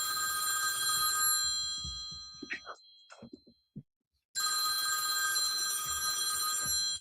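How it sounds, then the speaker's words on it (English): A telephone bell rings loudly and continuously, stops while a few faint knocks and clicks are heard in near silence, then the ringing resumes just as loud. "I hear a phone ringing somewhere"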